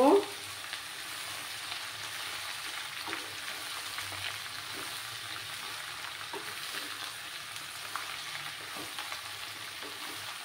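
Bottle gourd fries in a pan with a continuous soft sizzle, stirred now and then with light scraping sounds, after a brief knock at the start.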